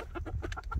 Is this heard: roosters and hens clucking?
yes